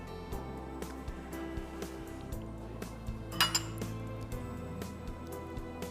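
A metal spoon scrapes and clinks against a pan while cream is cleared out, with repeated light taps and scratches at close range over a low background hum.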